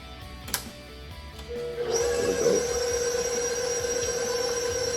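A KitchenAid stand mixer switched on to mix cheesecake batter, its motor starting after a couple of seconds into a steady, close whine and hum that runs on evenly.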